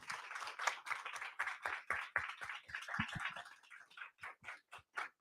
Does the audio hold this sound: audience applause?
yes